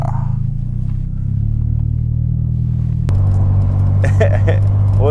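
A warmed-up Toyota Corolla E210 hatchback engine idles with a steady low rumble close by, its tone shifting to a firmer, slightly louder drone partway through, with faint background sounds over it.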